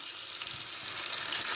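Onion sizzling hard in hot oil with popped mustard seeds, a dense steady crackle and hiss that swells slightly louder over a brief moment, close and without voices.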